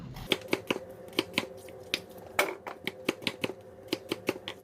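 A knife chops radish on a cutting board for kimchi seasoning, giving a string of about fifteen sharp, close, irregularly spaced knocks with nothing else heard.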